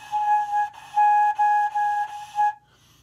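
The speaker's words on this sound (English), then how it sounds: "that's a decent sound on the head joint" Flute head joint blown on its own, a breathy whistle-like tone played as five or six separate steady notes at the same pitch, clear and close with short gaps, then silence.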